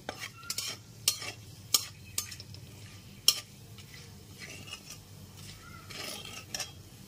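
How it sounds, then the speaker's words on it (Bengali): Whole cinnamon pieces, cardamom pods and cloves fry gently in oil over a low gas flame, a soft sizzle under close stirring with a few sharp metallic taps of the spoon on the pan. "এবার গ্যাসের ফ্লেমটা লোতে রেখে সমস্ত ফোড়নটাকে ভেজে নিতে হবে।"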